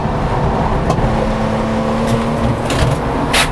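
Engine of a £1000 budget race car lapping a circuit in third gear, a steady continuous drone held close throughout with a few brief higher bursts near the end.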